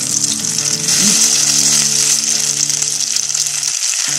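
An egg and okra omelette frying in a pan, a dense, steady sizzle heard up close, with faint tonal background hum and a brief stir-like clink near the middle.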